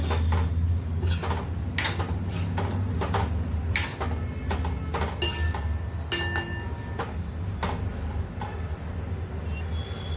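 Jaggery powder stirred into a pan of tangy raw mango curry, the spoon clinking and scraping against the pan in irregular bursts over a steady background hum.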